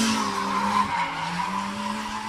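A drift car skids through a fast initiation at a drifting competition. The tire squeal is loud and sustained, with its pitch wavering, over the drone of race engines.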